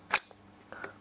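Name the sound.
rifle bolt being opened and pulled back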